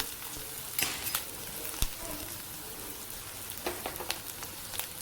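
Dried red chilies, curry leaves and onion frying in a pan for a pumpkin stir-fry make a soft, even sizzle with occasional clicks and scrapes of stirring, fairly quiet and without speech.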